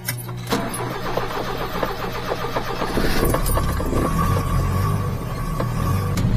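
A mini truck's engine turns over and settles into a steady mid-pitched running drone while driving, with a brief metallic jangle early on.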